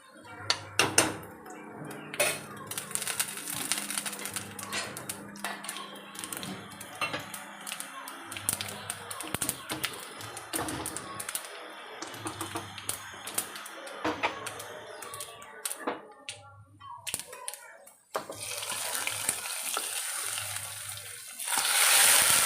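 Hot mustard seed tempering with fried chillies and onion is poured into a pot of curry, giving a crackling sizzle and bubbling over scattered clinks of pans at close range, faint and irregular, settling toward the end.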